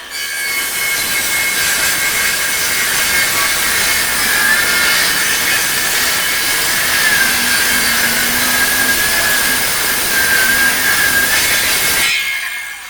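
A Ryobi circular saw makes one long non-stop cut through wood, a loud, close, steady whine with a droning pitch that cuts off near the end.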